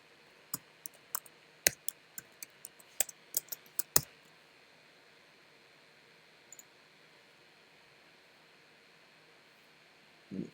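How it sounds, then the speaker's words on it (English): Typing on a computer keyboard nearby, a quick burst of sharp, irregular key clicks for several seconds, then near silence with a couple of faint taps over a low hiss. "So I just have to type that again"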